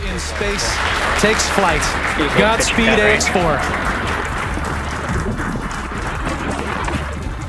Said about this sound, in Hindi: इसके साथ ही पूरा स्पेस सेंटर तालियों की गड़गड़ाहट से गूंज उठा।